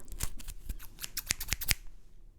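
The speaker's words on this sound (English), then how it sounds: "I think now we're going to go on to maybe trimming your eyebrows." Small scissors snip near the ear during an eyebrow-trimming makeup roleplay, a quick run of about a dozen crisp, close metallic cuts in uneven rhythm, then stillness.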